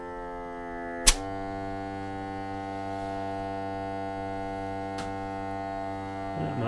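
A Fiamma A20 water pressure accumulator builds up pressure as a steady, low, harmonic hum with a faint buzz, running evenly at close range, broken by a sharp click near the start and another later.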